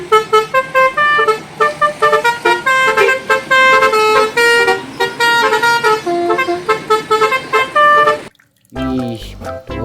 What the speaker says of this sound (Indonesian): Mobil bus telolet.